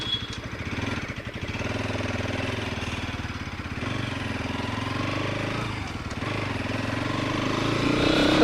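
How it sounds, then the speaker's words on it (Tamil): A 2024 Bajaj Pulsar NS200 motorcycle runs on a test drive, its engine note steady and close throughout and swelling slightly toward the end. "இப்போ நம்ம NS200 2024 வண்டியை டெஸ்ட் ட்ரைவ் பண்ணி பார்ப்போம்"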